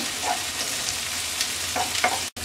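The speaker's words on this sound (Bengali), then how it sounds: "পেঁয়াজটা হালকা ভেজে নেব" Three medium chopped onions frying in hot oil in a wok for a Bengali fish curry, a steady bright sizzle with occasional stirring scrapes and a brief cut near the end.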